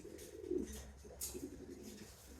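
A racing pigeon softly coos in a loft, faint low murmuring amid quiet background rustle and distant noise.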